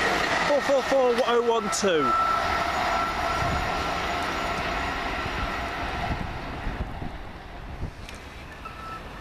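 A South West Trains service from London Waterloo to Weymouth rumbles past at Farnborough main line, a loud steady roar that slowly fades, with a brief horn-like tone near the start.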